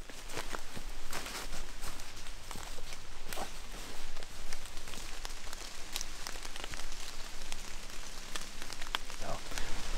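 Rain pattering steadily through woodland on public hunting land in Pennsylvania, a close, continuous patter of drops on leaves and gear with scattered sharper taps.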